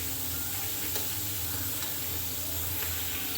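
Chopped onion fries in oil, a soft, even hiss that runs without a break, with faint occasional crackles and light stirring, heard up close at low volume.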